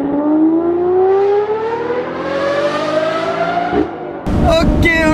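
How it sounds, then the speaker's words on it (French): A Lamborghini Murcielago's engine and exhaust climb steadily in pitch under hard acceleration, loud and close, then a short dip at a gear change before a harsh, crackling surge. "ça va être d'aller rouler dans la Lamborghini Murcielago"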